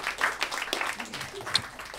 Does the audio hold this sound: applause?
yes